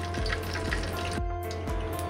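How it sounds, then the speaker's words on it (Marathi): Mustard seeds crackle and pop in hot oil in a pan on the stove, a steady close sizzle broken by sharp, spaced pops, with no talking. "मोहरी तडतडली की आपण त्याच्यात आता हिंग घालतलो सा."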